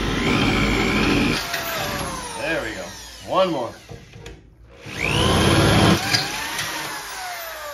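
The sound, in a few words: power drill drilling holes through hitch plate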